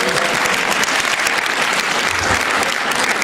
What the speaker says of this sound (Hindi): एक बार तालियां बजाकर बताएं मुझे कि